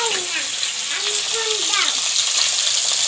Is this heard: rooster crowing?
no